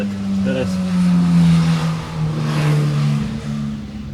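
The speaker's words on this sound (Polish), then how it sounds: "pojechał na motorze" A motorbike pulls away beside someone servicing an Erbauer GCV200 (Honda GCV200) lawnmower. A steady engine drone runs at close-to-mid distance for several seconds, rising and shifting slightly as it rides off.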